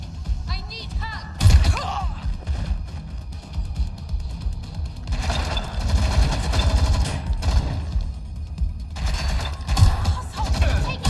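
Gunfire rattles through the video game Watch Dogs Legion, with bursts of shots and impacts repeating loudly across the scene and voices shouting underneath.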